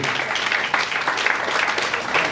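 An audience at a campaign event against cultism and drug abuse in Nigeria claps steadily, a dense even patter of many hands throughout, with faint voices mixed in.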